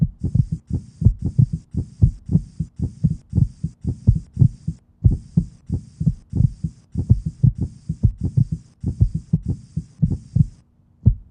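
A human heart beats in a steady rhythm of soft, low, thumping lub-dub pairs, close and clear, repeating about twice per second with no talking.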